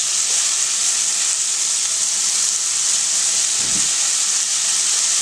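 Beet stems sizzle loudly and continuously in a hot pan, a steady close hiss of frying with faint stirring and no talk.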